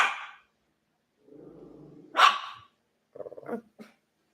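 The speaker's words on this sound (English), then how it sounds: "It seems as if her dog is reacting to something that neither the camera or Emma can see" A dog gives a low growl and then a sharp bark, followed by a few quick, softer huffing barks, close and loud with silence between.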